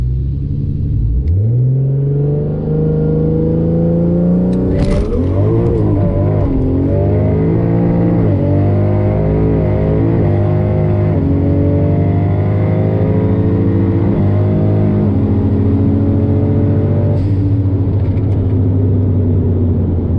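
Barra-swapped Ford GT350 launching hard on a drag strip, engine note sweeping up through the revs with a gear change, loud and close, with tires spinning on a poor 60-foot launch.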